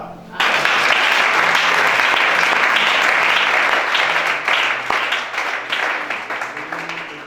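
A congregation applauds at a church deliverance service: loud, dense clapping starts abruptly, holds strong for several seconds, then thins into looser, uneven claps toward the end.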